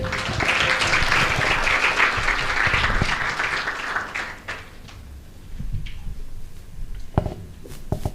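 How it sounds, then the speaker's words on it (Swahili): An audience at a business SDG awards ceremony breaks into loud, dense applause for the judges that fades after a few seconds into scattered claps and small knocks and shuffles. "Tuwapigie makofi ya kutosha."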